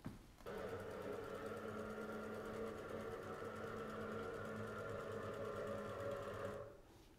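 An electric motor drives a rack and pinion through a planetary gearbox on a plasma CNC machine, starting with a click into a steady, even whine that runs for several seconds before stopping.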